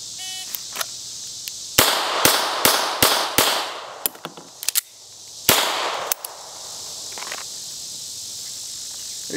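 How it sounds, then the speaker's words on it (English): Gunshots fired at a bullseye target in a shooting drill: a series of sharp, loud reports in an irregular rhythm, about a dozen in all, with short pauses between groups and no talk. "really being accountable for the shots that you fire"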